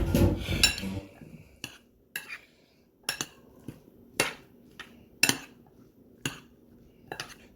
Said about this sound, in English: We're gonna mix it up a little bit